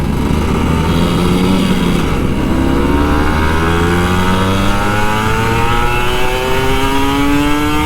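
A Kawasaki Ninja RR 150 motorcycle engine revs steadily and loudly for the whole stretch, its pitch rising and falling in repeated sweeps up close, with no talking.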